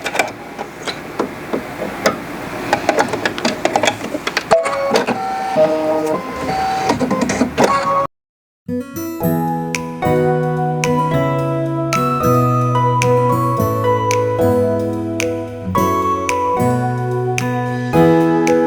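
Sewing machine stitching dark pink thread around a fabric heart on a Valentine's wall hanging, rapid mechanical chattering in bursts, a brief pause midway, then steady stitching with rhythmic tonal whirring.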